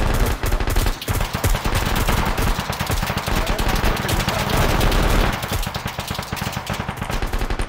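Dense rapid rifle and machine gun fire from a realistic warfare video game, continuous overlapping bursts and shots, loud and close throughout with no pauses.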